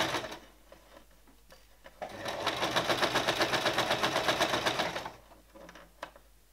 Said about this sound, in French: on recule, on avance et on coud en laissant le cordon glisser dans la coulisse